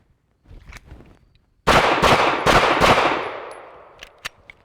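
Staccato pistol fired at a shooting range until the magazine runs dry, a fast string of four or five loud, close cracks with ringing echo, followed by a few small metallic clicks.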